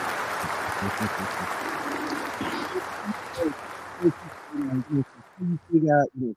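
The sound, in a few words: audience applause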